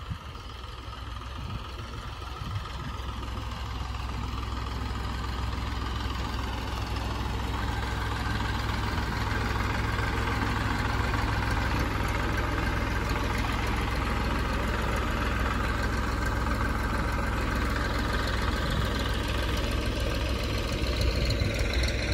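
Tractor and JCB engines run while a reservoir is drained at an Amaravati construction site, a steady, loud diesel drone and idle rumble that continues unbroken throughout with no voices.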